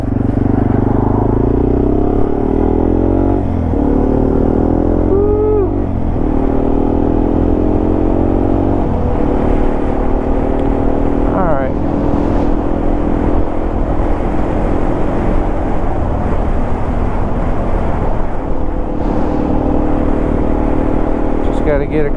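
A Yamaha TW200 dual sport motorcycle rides along tourist roads near Colorado Springs, its engine droning steadily and loud throughout with shifting revs, while a rider talks over the top.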